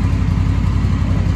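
A big motorcycle idles at a large bike shop, its low steady rumble close and continuous, with no talk over it.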